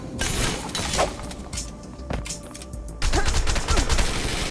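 Rapid gunfire bursts from a gun in the shooter game Wanted: Dead, crackling and loud in quick repeated volleys over a busy game soundscape, growing denser toward the end.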